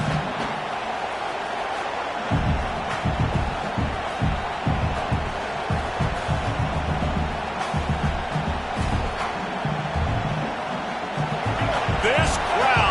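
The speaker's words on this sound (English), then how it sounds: "This crowd, full throat, splitting the eardrums" A football stadium crowd roars in a steady, loud wash of noise throughout, with a commentator's voice talking over it.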